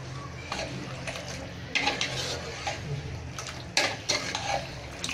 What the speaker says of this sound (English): mix the curry.